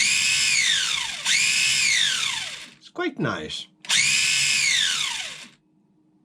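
A Kyosho Mini Cooper S 1967 RC car motor running at top speed, a loud high-pitched whine that dips and rises in repeated sweeps, broken midway by a brief sputtering burst, with a short spoken remark.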